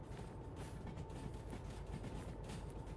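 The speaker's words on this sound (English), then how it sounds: "The train will slow down on its own going around the corner." Train wheels roll over rails in the Derail Valley simulation game, a steady rumbling clatter with faint rhythmic clicks, moderately quiet and continuous with no talk.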